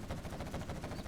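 Gatling cannon firing in the video game Command & Conquer Zero Hour: a quiet, rapid stream of rattling shots, evenly spaced and continuous for about a second, distant and faint.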